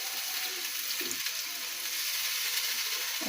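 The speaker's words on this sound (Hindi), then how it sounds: "ये प्याज हमारे बहुत अच्छी तरह से फ्राई हो गए हैं। ये 3 टमाटर थे दरमियाने साइज़ के, इसका मैंने पेस्ट बनाया है," Tomato paste sizzles in a pan with fried onions, a steady crackling hiss throughout with a few soft stirring scrapes and no talking.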